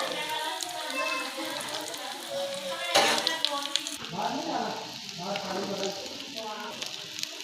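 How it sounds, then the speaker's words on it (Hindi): Potato aloo tikki patties fry in hot oil with a close, steady crackling sizzle, and a voice talks over it throughout. "इसी तरह बाकी सारी टिक्कियों को भी फ्राई करेंगे।"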